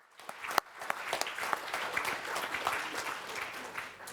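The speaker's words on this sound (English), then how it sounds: "I really would like to have an applause for all the people that have been involved in this" A conference audience applauds at a closing ceremony, a dense, even wash of many hands clapping that swells after a few sharp early claps and holds steady at a fairly soft level.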